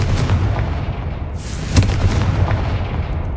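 Confringo fire spell in Hogwarts Legacy bursting with a deep booming blast, rumbling and crackling through the whole moment, with one sharp whooshing hiss rising midway; no talking.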